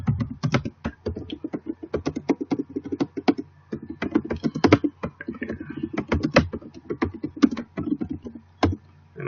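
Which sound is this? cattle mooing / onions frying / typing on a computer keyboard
typing on a computer keyboard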